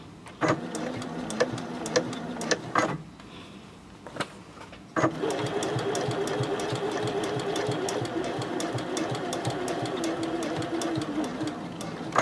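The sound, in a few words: sewing machine stitching lining and exterior together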